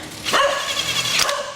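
A guard dog barks twice, moderately close, the sharp woofs spaced about a second apart in a workshop where an aircraft engine is being fitted, with low background hum.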